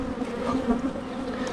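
A dense, steady drone of many honey bees buzzing up close, loud and agitated, with no voices.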